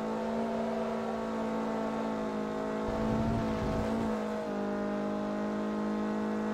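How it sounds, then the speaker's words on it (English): A Toyota Yaris engine in Forza Motorsport 3 drones steadily at a constant pitch, loud and close, with a short lower rumble midway before the monotonous hum resumes. "The engine noise of this car is just... This is ridiculous. It's just a droning noise."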